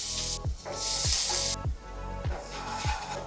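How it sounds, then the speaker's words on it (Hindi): Palak paneer cooks in a pan, loud hissing sizzle bursts surging and dropping in a repeating rhythm, close up. "अब it's time to cook the palak paneer"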